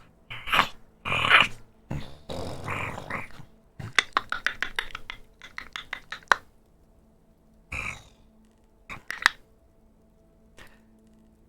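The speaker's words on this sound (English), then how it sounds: "clicking sounds and growling coming from the doors here and here." Clicking and growling from beyond doors, with throaty growls and grunts in the first few seconds, then bursts of rapid sharp clicks, a lone growl near the middle and scattered clicks trailing off into quiet.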